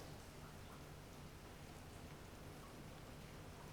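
Steady, soft rain hiss of a sudden snowy mountain storm with a faint low rumble beneath, even and continuous, with no voices.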